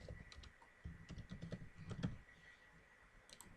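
Keys clatter on a computer keyboard in short irregular bursts of quiet, close taps, followed by a brief pause.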